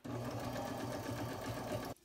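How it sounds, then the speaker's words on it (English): A sewing machine runs in one continuous burst, stitching across the top of a paper belly band for a junk journal, its steady mechanical whir lasting about two seconds before stopping abruptly, with no talk. "So now I'm gonna take this over to my sewing machine and I'm just gonna sew across the top."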